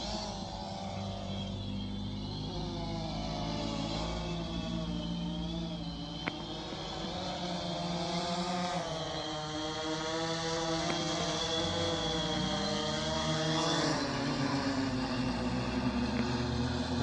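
Drone motors whine continuously over water, their pitch wavering up and down as they rev, with a steady outdoor wash of noise underneath.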